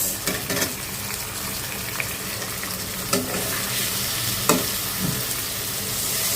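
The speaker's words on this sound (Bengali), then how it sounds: "মাছটা একটু ভাজি নেই আর কি জাস্ট একটু মশলার সাথে কষায় নিলাম" Hilsa fish frying with spices in a pan, a continuous close sizzle broken by occasional stirring clicks, with a faint watery splash mixed in.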